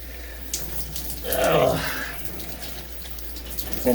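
Water runs from a shower head in a steady, moderate rush that swells briefly and then settles into a continuous hiss, with the supply nearly used up.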